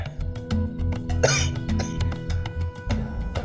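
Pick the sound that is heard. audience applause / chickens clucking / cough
cough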